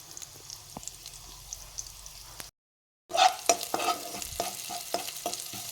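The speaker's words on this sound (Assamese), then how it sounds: "এইখিনি অলপ সময় লৰাই থাকিম।" Dried chilli pieces fry in hot oil in a pan while being stirred, giving a steady sizzle with scraping clicks of the spoon, a brief silent break, then louder, busier stirring close by.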